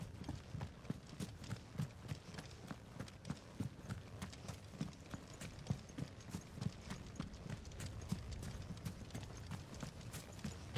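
Chocobo ridden in Final Fantasy XVI, its quick rhythmic clip-clopping footfalls running steadily and evenly throughout, fairly soft and close with no other sound in the way.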